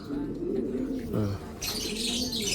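An aging racing pigeon in full molt, kept as a stock bird, coos in low, soft, repeated notes close by, with a brief burst of brighter noise toward the end.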